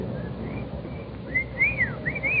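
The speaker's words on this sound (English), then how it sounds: "whistle for it, maybe" A person whistles a few rising and falling notes, faint at first and then clearer, over a steady background rumble.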